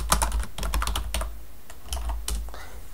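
Fingers type on a computer keyboard, a quick run of close, crisp key clicks in uneven clusters over a low background hum.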